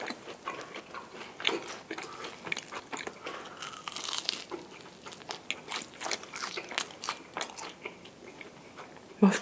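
Crisp bites and crunchy chewing of a fried sweet potato cheese ball from a Korean tteokbokki shop, close and fairly quiet, with repeated crackly crunches over several seconds and no talking.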